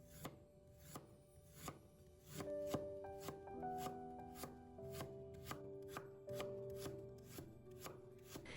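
A knife chops peeled fresh ginger into thin slices on a cutting board, giving steady, evenly spaced sharp knocks close up over soft background music, with no talk.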